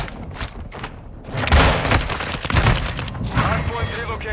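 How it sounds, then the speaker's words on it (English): Precision airstrike explosions in Call of Duty: Modern Warfare II erupt in a loud, rumbling cluster of heavy booms and thuds over a few seconds, with lighter crackling impacts after, partly under in-game voices. "Hostile precision airstrike."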